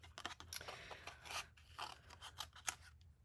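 Scissors snip through leftover craft paper in a quick run of crisp, close cuts, each blade closure a short rasping crunch, with no talking.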